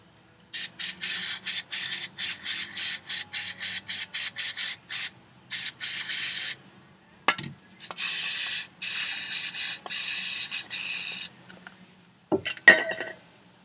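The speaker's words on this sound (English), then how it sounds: "So I'm going to hit them with some brake cleaner." Brake cleaner sprayed in many short and longer bursts onto dirty rubber caliper grommets during a brake job, hissing close and loud, with a few faint clinks and handling noises between sprays and no talk.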